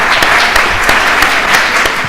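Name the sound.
applause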